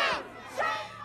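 A crowd gathered at a vigil in a London park lets out short, loud shouts and cheers, heard close and brief.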